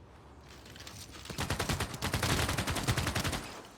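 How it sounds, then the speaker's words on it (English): Rapid bursts of machine-gun fire from a machine gunner unit in Civilization VI, a dense rattling volley that swells over a couple of seconds and then holds steady, alone without speech. "Oh, that's your machine gunner."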